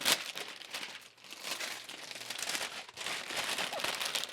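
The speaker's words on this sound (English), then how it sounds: "Get rid of our cellophane." Cellophane wrap peeled off a boxed Missile Command replica arcade machine crinkles and crackles continuously and close by, with a brief lull midway before the rustling picks back up.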